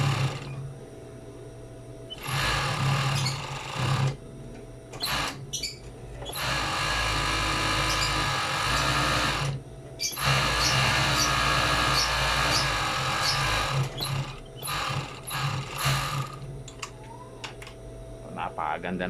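A sewing machine stitches a pillow case in bursts of dense, rapid mechanical whirring, with short pauses between runs and a faint hum beneath.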